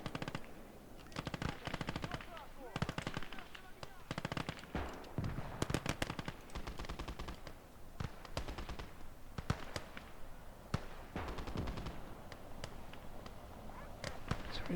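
Machine gun fire in a war video game, sustained rapid bursts of shots crackling continuously and loudly for the whole stretch with brief gaps between volleys.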